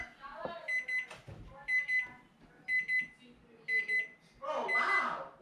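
A kitchen timer goes off while hobo stew cooks, beeping in four evenly spaced bursts of rapid high tones, fairly close and loud, with a louder burst and some handling noise near the end.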